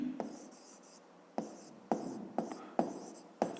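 Pen strokes writing notes by hand, a series of short scratchy bursts in an irregular rhythm, close and faint, with no talking.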